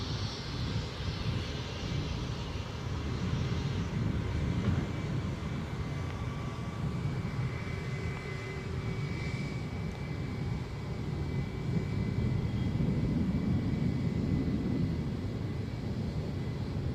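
An airliner taxies at Edinburgh airport with a steady, continuous jet engine rumble and whine. It holds at an even level the whole time, moderately distant, and nobody speaks.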